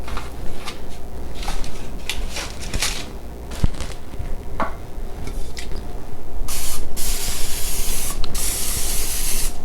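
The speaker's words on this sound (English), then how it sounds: "I'm just gonna use that nonstick spray, or I can't believe it's not butter spray" An aerosol can of I Can't Believe It's Not Butter spray misted onto bread slices on a cookie sheet, with repeated short hissing bursts, close and loud, then a longer sustained spray near the end.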